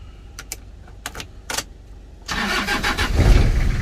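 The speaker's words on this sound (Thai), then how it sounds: "ทดสอบสตาร์ทนะครับ" A Toyota Tiger pickup starts with a freshly cut replacement key: a few sharp key jingles, a brief starter crank, then the engine catches and settles into a loud, steady idle close by.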